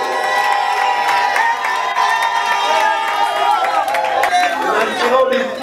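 A church congregation cheers and calls out in acclamation, a loud, dense crowd roar with overlapping voices and shouts sustained throughout.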